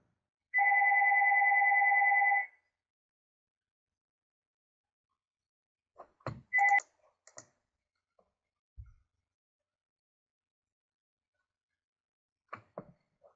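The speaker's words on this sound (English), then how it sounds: "Apologize for the phone ringing." A single electronic telephone ring sounds for about two seconds, followed by quiet with a few scattered clicks and handling sounds.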